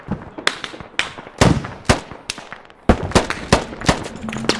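Sharp, loud gunshot cracks ring out in the video game Squad, played with the Middle East Escalation mod, in an irregular string of close single shots over about four seconds.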